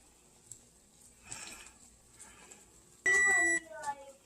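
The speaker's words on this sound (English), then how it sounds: "now that that timer has went off" A kitchen timer goes off in a home kitchen during no-bake cookie making, sounding one loud, sharp electronic beep burst followed by a softer trailing tone, after quiet background clatter.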